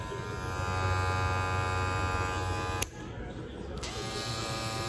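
Magic Clip cordless hair clippers run at high speed with a steady close electric buzz and hum that briefly cuts and dips midway before resuming.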